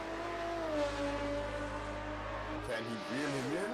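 A BMW and a Commodore race in the SRA Group C Championship. Their engines give a continuous revving whine with rising and falling pitch, and a commentator talks over them.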